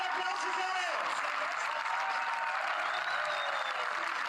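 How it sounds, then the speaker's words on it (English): A stadium crowd applauds an athlete after a pole vault attempt at an outdoor athletics meet, with steady sustained clapping and cheering heard from a distance under a commentator's voice. "And away with quite a lot of appreciation from the crowd as well."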